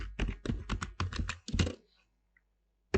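Typing npm install express on a computer keyboard, a quick run of close clattering keystrokes over about two seconds, then a pause and a final keypress.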